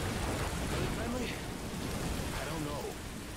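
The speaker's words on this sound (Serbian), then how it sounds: "Znači, kakav pljusak, brate." Heavy rain pours down in a downpour in the video game Call of Duty Modern Warfare 2, a dense, steady hiss that fills the whole clip with no break.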